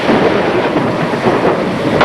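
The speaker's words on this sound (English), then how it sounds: "We're in a typhoon." A loud, continuous typhoon roar at sea aboard a ship: heavy rain hissing with deep rumbling thunder, dense and unbroken throughout.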